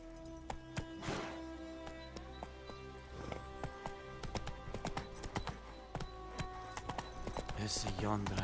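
Roach the horse galloping in The Witcher 3, a rhythmic clip-clop of hooves with light game music, while a voice talks over it.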